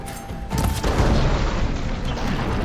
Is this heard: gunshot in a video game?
yes